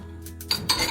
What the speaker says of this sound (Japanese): 包丁はここで乾かしとく。